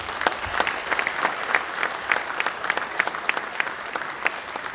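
An audience applauding members of the Academia Paulista de Letras at a ceremony, with dense, steady hand clapping from a large crowd in a reverberant hall and sharper claps popping out rhythmically.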